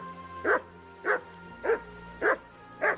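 A dog barks five times at a steady, even pace in the video game Kingdom Come: Deliverance II, each bark close and clear over a faint, quiet background.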